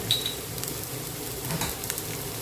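Cucumber and egg stir-fried in a pan make a soft, steady sizzle, with light scraping and clinks of a utensil stirring, moderately close and without speech.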